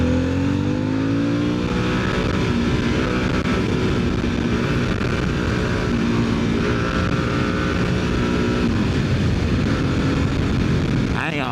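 A 2025 Harley-Davidson Sportster S accelerating hard under its rider, a loud continuous engine roar with rising revs and steady wind rush throughout.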